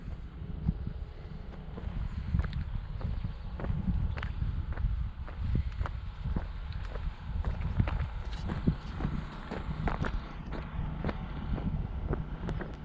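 Hikers walk along a valley road, their footsteps falling in a steady rhythm of close, distinct steps under constant wind noise, with no talking.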